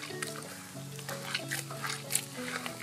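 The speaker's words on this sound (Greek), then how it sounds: "Θα βάλω μέσα 1 κιλό ζάχαρη στο νερό αυτό και αυτό εδώ το πολτό." Elderberry must pulp is tipped into sugar water, with wet squelching, glugs and drips in a short irregular run, close by, mixed with a faint voice.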